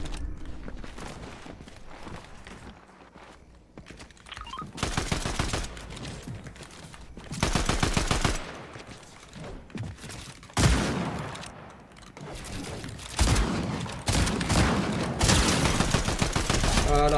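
Gunfire in the video game Unreal during a solo ranked match: loud, dense bursts of rapid automatic fire and repeated shots in several long volleys, with footsteps between them and no speech over the game sound.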